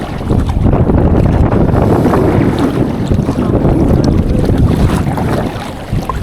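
Loud, constant storm wind roars and batters the microphone on a kayak at sea off Cebu, a dense rumbling rush with water noise underneath that barely lets up.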